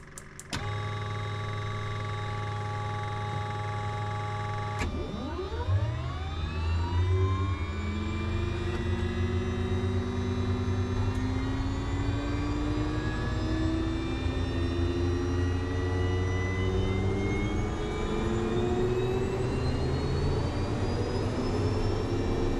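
A turboprop aircraft engine starting up: a steady whine first, then a rising spool-up as the turbine lights and accelerates into a continuous, loud, layered roar with climbing tones that holds to the end.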